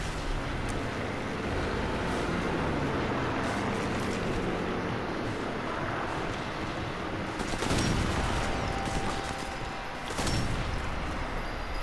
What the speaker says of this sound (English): Shot him in the lung.